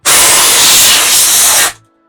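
A hard, continuous burst of compressed air sprays into an old laptop for under two seconds, loud and close, then cuts off abruptly.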